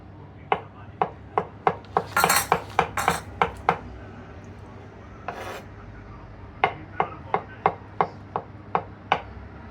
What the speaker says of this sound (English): I'm dicing some. The vegetable first of all. Sorry, chopping these.